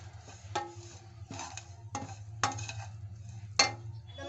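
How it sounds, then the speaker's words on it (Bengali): A spoon stirs semolina upma in a pan with repeated scraping knocks and clinks at an uneven rhythm over a low, steady background hum. "সুজির সঙ্গে নেড়ে চেড়ে উঠিয়ে নেব"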